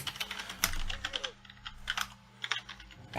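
Keys clatter in quick irregular bursts on a computer keyboard while a Minecraft Bedrock sign is typed, close and fairly crisp over a low game hum, with short pauses between flurries.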